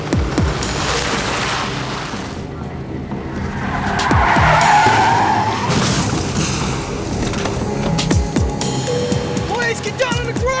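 A car skids and swerves with squealing tires during a police chase, with engine roar and scraping close by, building to a loud burst midway, while a voice speaks over it.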